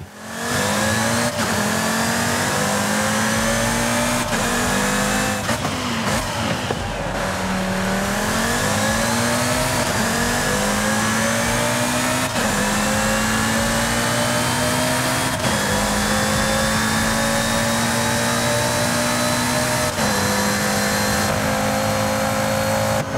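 An Audi TT RS racing car engine in Forza Horizon 5 drones loudly and steadily, pitch rising in repeated climbs broken by sharp racing-gearbox shift drops, with occasional tire squeal.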